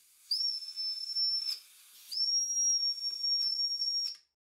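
A model steam engine's whistle blows two sustained, high, steady tones of about a second and two seconds, each with a hissing steam edge, run on low-pressure compressed air with no talking.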